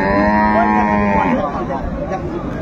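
A dairy cow of an improved breed moos loudly and close at a rural cattle market, one long drawn-out low call that fades into the crowd's background murmur.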